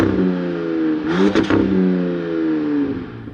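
A 2026 Ram 1500 pickup's HEMI V8 engine idles, then revs up sharply and settles back into a deep rumbling idle, heard from outside at close range.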